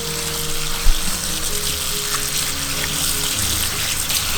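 Tap water running steadily into a sink while cabbage leaves are washed by hand, a constant close splashing rush with a faint thump near the start and light sloshing throughout.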